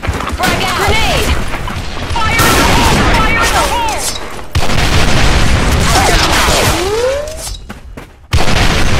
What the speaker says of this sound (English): Frag out! Frag out! Grenade!